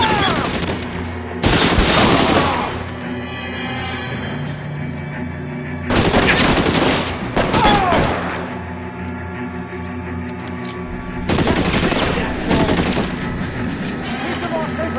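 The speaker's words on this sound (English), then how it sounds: "Shoot those sons of bitches!" Loud bursts of gunfire ring out in a video game shootout in L.A. Noire, with three heavy volleys of rapid shots separated by quieter stretches of music and ambience.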